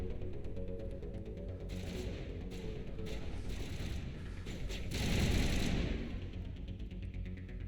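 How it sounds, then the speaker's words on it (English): Rifle gunfire in a Mass Effect battle, heard as a dense, distant rattle of shots under continuous combat noise, swelling into a heavier, louder burst near the end. "Switching to my rifle."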